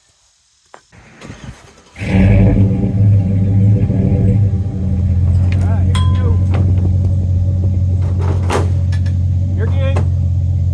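A 1972 Chevrolet C10 pickup with an LS swap engine cranks and fires, then settles into a loud, deep, steady rumbling idle up close, with a few brief spoken words and clicks around it.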